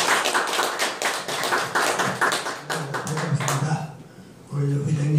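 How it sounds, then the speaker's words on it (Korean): Audience clapping at a Korean humanities lecture, a dense round of applause for about four seconds that fades out as a voice begins speaking. "다시 한번 뜨거운 박수로 강의를 모시겠습니다"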